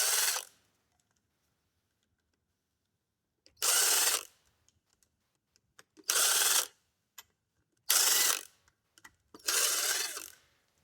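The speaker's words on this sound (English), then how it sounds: "We'll get our power drill here." A power drill backs screws out of an M35A2 wiper motor during a rebuild in four short sharp whirring bursts separated by quiet gaps, close and loud.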